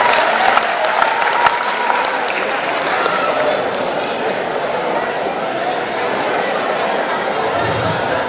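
A crowd claps loudly and continuously at a prize-giving closing ceremony of a cultural festival, a dense wash of applause with background chatter mixed in throughout.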